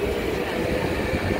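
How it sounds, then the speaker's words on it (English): A light rail train arriving at a Jerusalem station, rumbling along the rails with a steady low roar and faint metallic clatter, close by, no voices. "the train that is coming in now is coming from the north"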